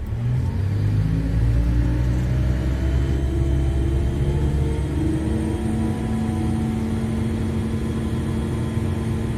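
A Komatsu 785 haul dump truck's diesel engine revs up and holds a loud, steady roar with rising tones during a service brake test, close and continuous for the whole stretch with no talk.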